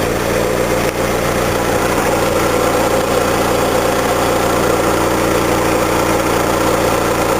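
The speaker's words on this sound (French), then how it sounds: "Ariane, tu peux peser sa pédale à gaz." A 2004 Honda Civic Si engine fitted with an HHO hydrogen conversion hums nearby in a steady, loud drone that holds an even pitch throughout, with no clear rise in revs and no talking.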